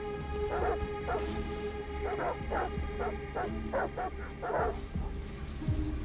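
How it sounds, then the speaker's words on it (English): A dog in the video game Detroit: Become Human barks repeatedly in short, uneven bursts over a steady low game ambience, moderately near. "Damn it, dog, shut up!"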